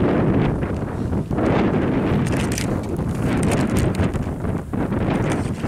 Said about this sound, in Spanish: El viento que corta